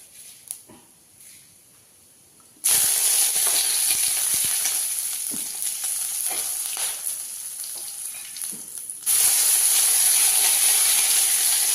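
Green chillies and curry leaves dropped into hot coconut oil for a sambar tempering: a quiet start, then a sudden loud hissing sizzle that stays steady with small crackles and surges louder again near the end, close up.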